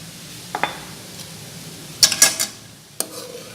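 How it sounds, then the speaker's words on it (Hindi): A metal spoon scrapes and clinks against a pan while stirring thick carrot halwa with cardamom, a few sharp close knocks and a quick cluster of rattling scrapes over a quiet low background, no voices. "चम्मच मुसलसल हिलाते रहना है, ये ना हो कि गाजरें नीचे लग जाएं।"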